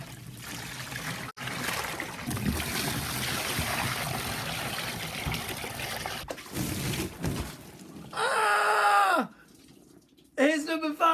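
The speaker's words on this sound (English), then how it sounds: "What's that gurgling noise?" Gurgling, trickling liquid in a vampire movie scene, a steady dribbling stream over a low rumble, then a few sharp squealing bursts toward the end.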